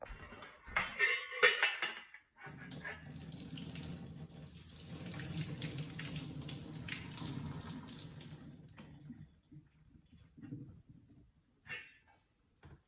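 Boiled potatoes drained into a kitchen sink, with a rush of pouring water and splashing at moderate volume lasting several seconds, preceded by brief clattering and followed by quieter handling sounds.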